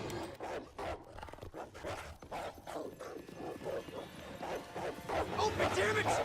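A dog in the game Need for Speed: The Run barks in a run of sharp repeated yaps under someone talking over it.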